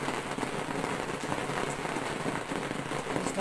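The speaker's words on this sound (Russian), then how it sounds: "наконец-то дождь принесли и появился. Но как из-под ведра." Heavy rain pours down in a dense, steady roar of drops drumming on a surface, constant and close with no pauses or voices over it.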